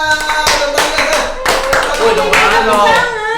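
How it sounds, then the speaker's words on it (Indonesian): An audience at a talk show claps hands in several quick, sharp bursts, loud and close, while voices carry on over the clapping. "penonton juga pada tepuk tangan"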